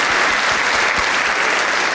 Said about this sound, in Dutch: een applaus voor deze twee mensen